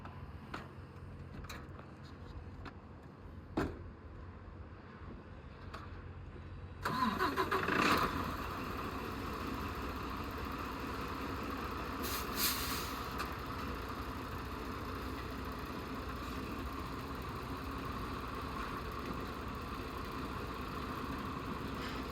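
A semi truck tractor backs against its coupled trailer. The engine starts partway through and settles into a steady low idle with a faint clunk.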